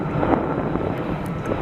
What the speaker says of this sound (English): Yeah, it looks like it's an Airbus A330.